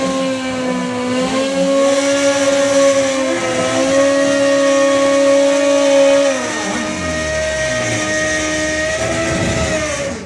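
Drag racing motorcycles, a Buell against a four-cylinder bike, at a European drag racing finals: loud, sustained engine howls with shifting pitch that drop away partway through, heard without commentary.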